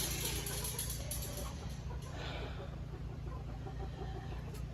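Roosters being fattened cluck softly in a new open-air enclosure, faint scattered calls over a steady low engine-like hum that runs throughout.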